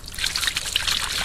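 Running water trickles and splashes steadily for a brief moment as slime-covered toy animals are rinsed clean.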